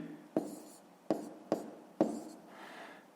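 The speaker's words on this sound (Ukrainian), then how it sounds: "Записуємо останню дію, тобто пишемо 642 цілі" Numbers are written by hand in a school math exercise, heard as four sharp, close taps of a pen or chalk, each followed by a soft scratching stroke, with brief quiet between.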